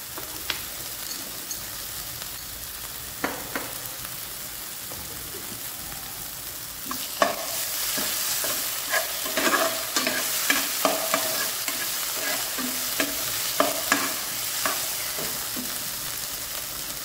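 Palak paneer cooks on a slow fire with a steady close sizzle, and stirring scrapes and taps join in more often in the second half.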